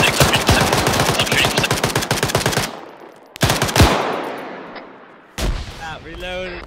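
Video-game gunfire: a rapid automatic burst of close, loud shots for a couple of seconds, then a few separate heavy blasts with decaying tails, a voice breaking in near the end.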